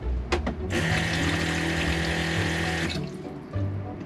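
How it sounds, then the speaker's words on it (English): Water runs steadily from a newly installed galley faucet aboard a 32-foot sailboat, a few seconds of continuous close splashing into the sink, starting after brief handling knocks and falling away as the tap shuts. "Got running water."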